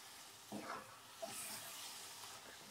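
Almonds and a spoonful of ghee stirred into a pan of thick carrot halwa, giving a soft, continuous sizzle with scraping stir strokes, fairly quiet and without speech.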